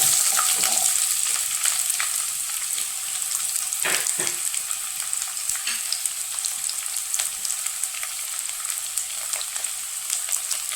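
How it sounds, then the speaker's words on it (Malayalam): Rose apple pieces sautéing in sesame oil in a kadai give a steady, close sizzle with a few stirring scrapes, and no one speaks. "എന്നിട്ട് കടായിൽ നല്ലെണ്ണ ഒഴിച്ചിട്ടുണ്ട്. നമുക്ക് ജസ്റ്റ് ഈ ഇതൊന്ന് വഴറ്റിയെടുക്കാം."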